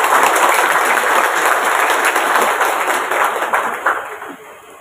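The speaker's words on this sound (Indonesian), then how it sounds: "Beri tepuk tangan yang meriah." Loud, sustained applause from an audience at a formal Indonesian public event with local and national media present, dense clapping filling nearly five seconds and tapering slightly at the end.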